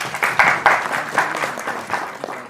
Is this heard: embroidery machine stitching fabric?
no